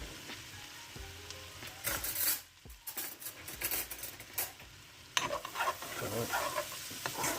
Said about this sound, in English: so we're gonna saute these up